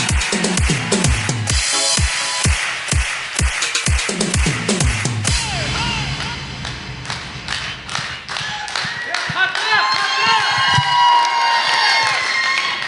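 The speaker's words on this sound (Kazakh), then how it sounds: "Сый құрметтеріңізге ұрған шапалақтарыңызға рахмет" Crowd at a Kazakh circumcision celebration clapping and cheering, with rhythmic hand claps early on, then a sustained mix of applause, shouts and children's voices filling the room.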